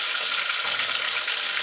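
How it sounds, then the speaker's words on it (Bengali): Tomato frying in hot oil in a pan before peas go in, a dense, continuous hiss of sizzling, fairly loud and close throughout, with no one talking. "কড়াইশুঁটিটা এই তেলের মধ্যে আগে টমেটোটা দিয়ে তারপর কড়াইশুঁটিটা দেবো"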